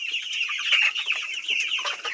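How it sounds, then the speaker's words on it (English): A flock of young hens clucks and chirps in a busy, continuous chatter, fairly close, with no talking. "Those are young hens."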